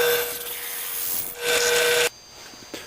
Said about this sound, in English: basically I'm just drilling the holes